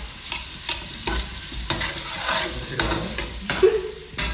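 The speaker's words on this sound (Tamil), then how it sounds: "அதுக்காக வந்து 5 வெங்காயம் ஆட் பண்ணியிருக்கோம். அதுக்காக ஸோ நல்லா வதக்கிட்டு இருக்கோம்" Five onions sauté in a pan for mutton biryani: a loud, continuous sizzle broken by repeated scraping stirs of a spatula, close up and with no voices.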